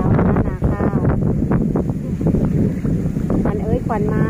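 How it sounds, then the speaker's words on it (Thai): Strong wind buffets the microphone over flooded rice fields, a loud continuous roar with gusting surges, while someone talks over it throughout. "โอ้ลมก็แรง"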